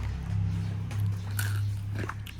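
Someone bites into a crunchy salty-sweet snack, a few close crisp crunches over a low steady hum, brief and fairly quiet.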